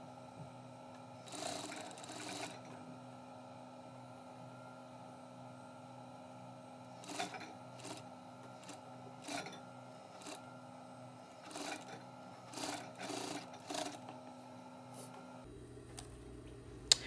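Sewing machine stitching a seam down a bustier from top to bottom, quiet bursts of rapid whirring motor sound in several short runs with pauses between, close up with a faint background hum.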